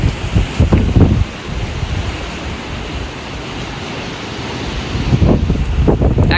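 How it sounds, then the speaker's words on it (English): Strong wind roars steadily along a Greek island coastline, mixed with the constant wash of breaking waves, loud and close with gusty buffeting against the microphone throughout. "Here's the wind that prevented me from leaving."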